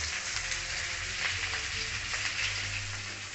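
Boiled chickpeas hit a hot pan with salt, turmeric, chilli powder and cumin powder and sizzle in a steady, close frying crackle, with a low continuous hiss underneath.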